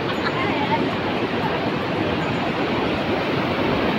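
Grojogan Sewu waterfall at Tawangmangu, Java's tallest, roars as a steady, dense wash of rushing water that fills the whole scene evenly, with no breaks.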